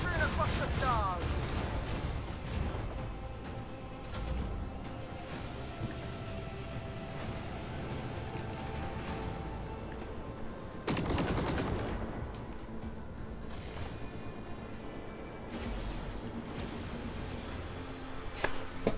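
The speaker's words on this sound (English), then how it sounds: "Fire the lance battery." A lance battery fires in the space-combat game Warhammer 40k Rogue Trader: sustained rumbling gunfire and booming blasts, with a sharp loud burst midway and another near the end, mixed with game sound.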